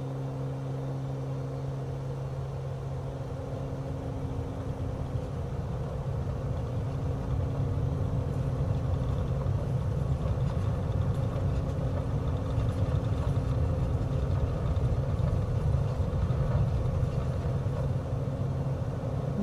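Aircraft engine held on the brakes and run up to full power for takeoff in Microsoft Flight Simulator on a Germany bush trip, a steady loud droning hum that swells and thickens after a few seconds and stays constant.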